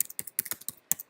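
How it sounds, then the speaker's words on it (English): Computer keyboard keys tapped in quick, uneven bursts, roughly nine crisp clicks in about a second, close and fairly soft, with no voices. "And you see I'm just clicking enter like this."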